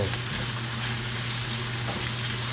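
Kimchi stir-fries in a hot pan with thinly sliced pork belly, a loud continuous sizzle and crackle close up, with a low steady hum underneath and no talking.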